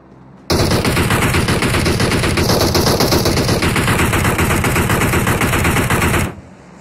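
Sustained automatic gunfire from the PUBG video game plays as one loud, unbroken burst of rapid shots for about six seconds, starting and stopping sharply, with no talk over it.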